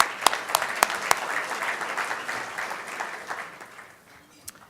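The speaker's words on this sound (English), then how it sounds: "Yes, we can applaud." Audience applause at an alumni fellow award ceremony, a moderate burst of clapping with sharp individual claps at the start, fading out over a few seconds.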